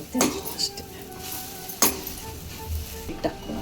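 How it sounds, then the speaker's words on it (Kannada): Semolina (rava) roasting in a pan for ragi upma, with a few sharp clinks and scrapes of a spoon against the metal over a faint dry background hiss. "2 ನಿಮಿಷ ಹುರ್ಕೋಬೇಕು ಇದ್ರಲ್ಲಿ ಫಸ್ಟ್ ರವೆ"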